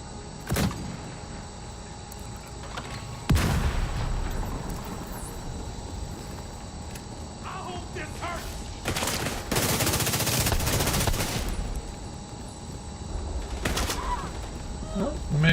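Bursts of gunfire and heavier blasts ring out in a Division 2 firefight, with several loud volleys clustered mid-stretch and scattered single shots around them, some voice chatter mixed in.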